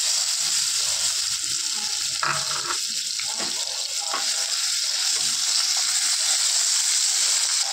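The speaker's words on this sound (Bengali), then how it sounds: "এখন এই নুন হলুদ মাখানো মাছটা ভেজে নেব।" Fish rubbed with salt and turmeric fries in hot mustard oil, producing a constant bright, loud hiss with a few soft clinks and spatters mixed in, and no talking.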